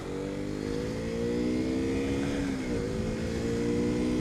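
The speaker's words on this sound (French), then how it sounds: "je suis obligé de rétrograder de la 6 à la 3" A KTM RC 125 motorcycle engine drones loudly and steadily close by, its pitch dropping midway as it downshifts from sixth gear toward third, then holding a rough, throaty note.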